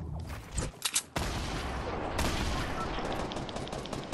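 A few sharp shots ring out in a Fortnite battle, then a long dense stretch of rapid gunfire that keeps up steadily, fairly faint overall.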